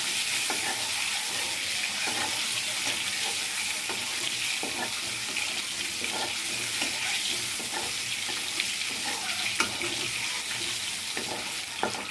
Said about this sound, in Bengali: আমি ডিমগুলো ভেজে নিব।